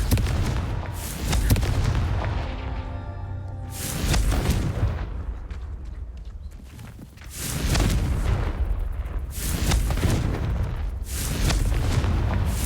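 Confringo blasting spells go off in the Hogwarts Legacy video game, a run of loud booming explosions with rumbling tails, several big blasts spaced a few seconds apart and no talking.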